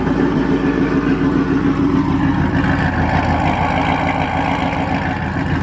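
A Chevrolet C6 Corvette V8 with an underdrive pulley holds a steady high idle, a loud, even, continuous engine drone heard close and alone, with no talking.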